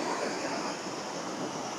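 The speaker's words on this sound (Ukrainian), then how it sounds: "ось сам водоспад" Waterfall seen from a viewing platform above, a steady broadband rush of falling water filling the whole clip with constant, even intensity and no talk.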